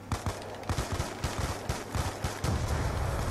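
Rapid bursts of gunfire from an impractical, penetrating gun in a zombies video game, dense overlapping shots crackling continuously and loudly throughout with no talk.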